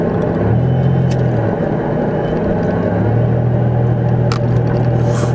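A car rumbles steadily while driving, with a low droning engine hum that shifts pitch slightly and continuous road vibration from a shaking vehicle, heard from inside the cabin.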